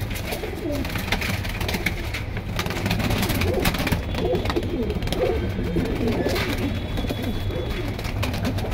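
Pigeons at a crowded pigeon market in Keraniganj, many birds cooing and fluttering close by in a dense, steady chorus with faint talk in the background.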